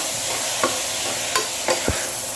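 Onions with salt being sautéed in a pan for chole curry: a steady hiss of frying with a few brief scrapes of a spoon stirring, close and alone without talk.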